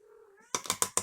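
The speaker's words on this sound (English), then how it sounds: "My putty cat." Pet cat named Rudy giving a short faint meow close by, followed by four sharp clicking taps in quick succession.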